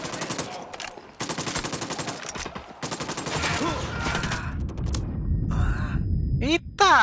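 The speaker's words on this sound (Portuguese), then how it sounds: "Atirando em nós do campo de futebol." Enemy gunfire in Ghost Recon Wildlands crackles in dense, sustained bursts aimed at the players, loud and continuous with brief gaps, while voices talk over it.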